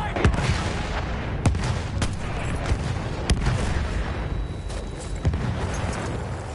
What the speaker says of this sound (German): Ist Artillerie!